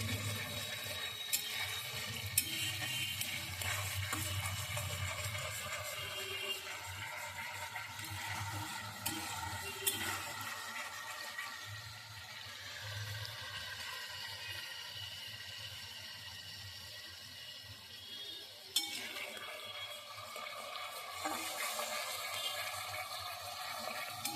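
A masala of onion, garlic, ginger, tomato and green chilli, stir-fried for a fish and moong dal, sizzles softly and continuously, with scraping spatula strokes and an occasional sharp clack against the pan.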